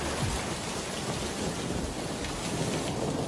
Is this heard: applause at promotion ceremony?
no